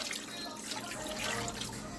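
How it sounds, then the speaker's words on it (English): About two cups of water are poured into a pot before pressure cooking, a faint, soft splashing trickle heard close up with no talk. "I'm just going to add like 2 cups of water to it."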